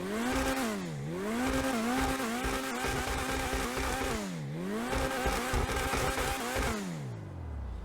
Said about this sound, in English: let's see what the Vysser Neo sounds like